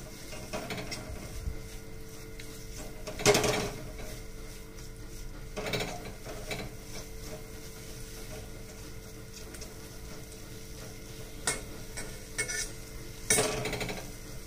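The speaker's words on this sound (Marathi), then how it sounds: "एकसारखंच असं ढवळून घ्यायचंय, कारण ते असं गाठी नाही झाल्या पाहिजेत" Water chestnut flour is stirred steadily in a pan as it roasts slowly, giving a soft continuous scraping with a few louder knocks of the spoon against the pan, close by and without talk.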